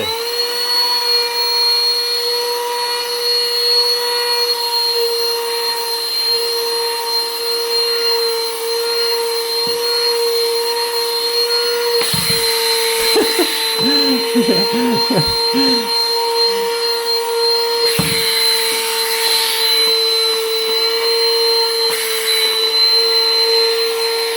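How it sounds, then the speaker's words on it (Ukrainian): A small handheld Xiaomi car vacuum hums steadily with a high whine, its pitch dipping briefly as it bumps against a surface; no one speaks. "Пилосос повністю зарядив. Давайте."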